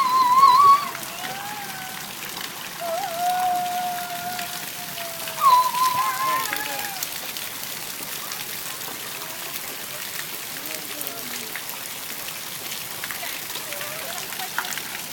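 A child splashes water in a fountain on a summer afternoon, a continuous wash of spattering water, with a voice and adult speech rising briefly over it.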